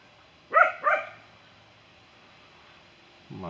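Dog barking in a garden while running, two quick loud barks close together followed by quiet outdoor ambience, then a voice starts speaking at the end.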